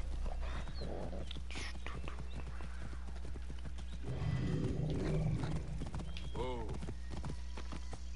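Horse hooves clip-clop in Assassin's Creed Origins on PS4, a steady rhythmic trot with a whinny, heard under a player talking.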